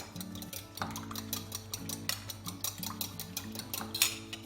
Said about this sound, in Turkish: Onu da çırpalım.